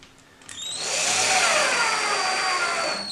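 A power drill drives screws into TV cover brackets, spinning up after a short pause and then whirring loudly and steadily for a few seconds at close range.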